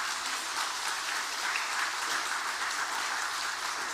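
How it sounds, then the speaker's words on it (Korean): A church congregation at a Sunday worship service applauds the choir after its hymn, steady, dense clapping from a large room that holds evenly throughout with no talk. "그래도 한나 찬양대 찬양 축하 박수 한번 해주시기 바랍니다"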